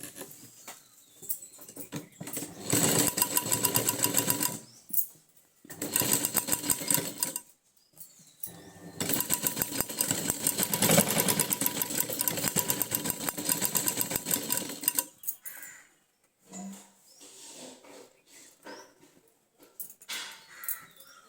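A sewing machine stitching a hook onto a blouse runs in several bursts of rapid, steady whirring, close and loud, separated by short pauses and quieter fiddling sounds, with no talking.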